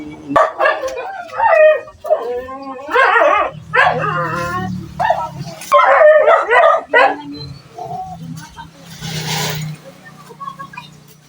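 Several pet dogs bark, yip and howl in an excited, overlapping chorus in the morning, close and loud, with bursts of barking breaking into drawn-out howls and whines.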